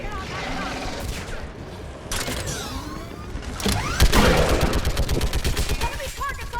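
Rapid mounted-gun fire in the Mass Effect 3 sci-fi shooter, with a long rattling burst that swells louder and faster near the end, mixed with mechanical clatter and combat noise while a voice shouts over it.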